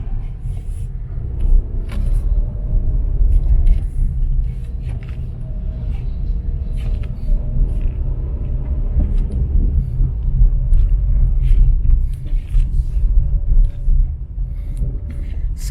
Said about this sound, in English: So you can see it's not so bad traffic in here.